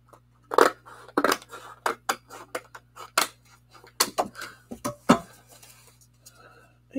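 Scissors snip and trim through craft card in a series of short, crisp cuts with pauses between, close and fairly loud, while a person speaks intermittently.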